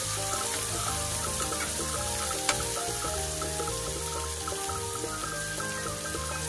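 Okra masala with tomatoes frying in a pan, a steady close crackling sizzle throughout, with faint kitchen clatter and background tones underneath.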